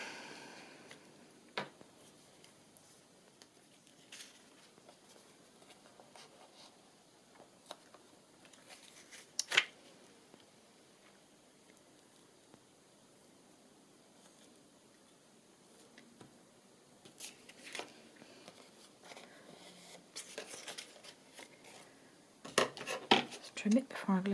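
Scissors snip through paper in a quiet room, with scattered single cuts and a cluster of quicker snips and rustling near the end, while a voice speaks at times.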